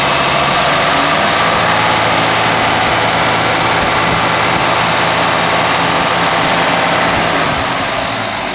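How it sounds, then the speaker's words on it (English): A 1970 Mercedes 280SE engine, freshly refilled after an oil change, running steadily and loudly close by, a dense continuous rumble that holds almost unchanged throughout and eases slightly near the end. "So one little quick rev just to work it out a little bit."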